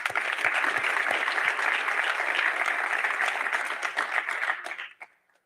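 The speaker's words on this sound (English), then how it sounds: "And to all the awardees, a big thank you and another round of applause." An audience gives awardees at an awards ceremony a sustained round of applause, steady dense clapping from many hands that tapers off and ends near the close.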